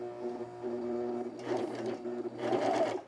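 A sewing machine with a trimming knife stitches men's cargo shorts, humming softly at first and then rising into two bursts of faster, louder stitching with a buzzy mechanical rattle.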